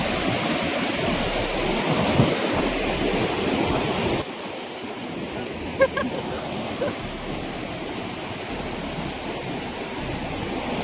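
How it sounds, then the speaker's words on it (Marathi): Girna river waterfall at Ozar, a steady broadband roar of falling water that runs continuously and fairly loud, easing slightly partway through with a few faint brief sounds over the rushing flow. "याच नदीवर इथं मोठा धबधबा आहे."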